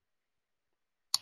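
Two quick computer mouse clicks, crisp and close, separated by a short pause after near silence, with no talking.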